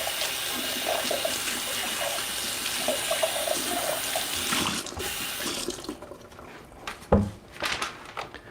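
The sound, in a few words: rinsing a milk pitcher under a running tap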